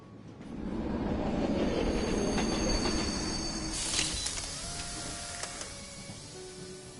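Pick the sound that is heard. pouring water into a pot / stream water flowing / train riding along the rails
train riding along the rails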